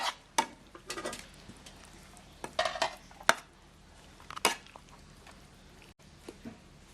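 Laab being stirred in a pan, a Thai minced-meat dish: scattered scraping and clinking of a utensil against the pan, irregular strokes with soft squishing, close and moderately quiet.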